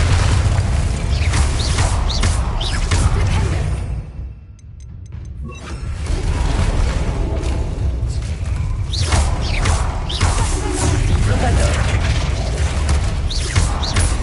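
Confringo blasting spell going off in the video game Hogwarts Legacy, a heavy booming blast amid constant dense combat rumble, with a brief drop before the noise surges back.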